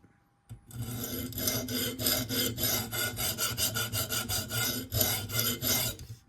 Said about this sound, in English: And then you run your stone along it.